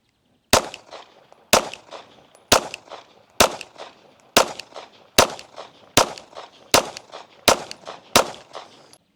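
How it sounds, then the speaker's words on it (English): Ten pistol shots from a Lone Wolf Dusk 19 Glock-style handgun with Strike Industries magazine extensions, loud sharp cracks fired at an even pace about one second apart, each trailing a short echo. "We're going to shoot a 10-shot group at the middle left target."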